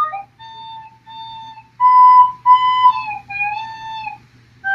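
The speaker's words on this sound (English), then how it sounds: "Practically everyone sounds like this when first beginning to play the recorder." Breathy, wavering recorder notes play slowly, some held and slightly unsteady in pitch, with a faint low hum underneath and no talking.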